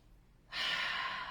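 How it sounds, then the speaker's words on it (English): After a brief quiet moment, a single deep breath is drawn in through the nose, a close, steady airy rush that holds to the end. "breathing in through the nose if you're able"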